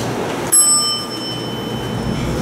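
Arrival bell of a Montgomery hydraulic elevator in an airport parking garage strikes once, a bright ringing tone with sustained overtones that slowly decay over a steady background hum.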